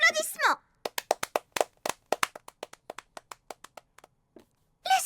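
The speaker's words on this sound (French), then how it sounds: "Applaudissements!" Characters in an anime scene from Bocchi the Rock clap in a sparse run of distinct, crisp handclaps that gradually thin out and fade, with a voice speaking just before and after.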